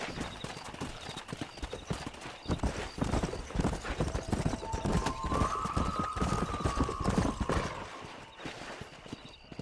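Hooves clip-clop at a steady riding pace from a horse in the video game Red Dead Redemption, with a long, high whinny rising partway through, all fairly close and clear.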